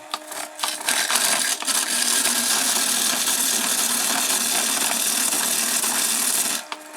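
Multi saw blade shredder grinding 3D printed plastic parts, a harsh rasping crunch that starts with a few sharp bursts, then settles into a continuous loud grinding before stopping at the end.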